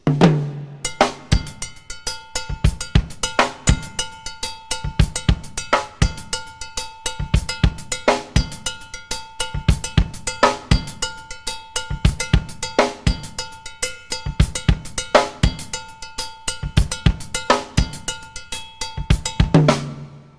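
A funk drum groove: the left hand strikes a cowbell mounted above the hi-hat while the right hand moves between hi-hat and snare, giving a steady, tight, close pattern of ringing cowbell hits over crisp cymbal and snare strokes with kick underneath.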